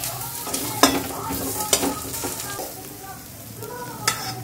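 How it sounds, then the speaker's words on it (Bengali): Pumpkin leaves and fish stir-frying in a wok, a steady close sizzle broken by sharp scrapes and clinks of a spatula against the pan, with no one speaking. "কড়াই থেকে যখন ছেড়ে আসবে তখন ভাববে যে মানে ভাজাটা হয়ে গেছে, আর একটু ভেজে নেবে।"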